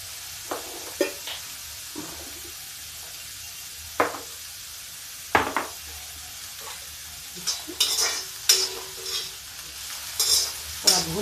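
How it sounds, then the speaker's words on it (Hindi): Lobia (black-eyed pea) sabzi frying in a pan, heard as a soft background sizzle broken by sharp, irregular scrapes and clinks of a spoon stirring against the pan, picking up in the second half. "देखिए, मेरी लोबिया भून गई है"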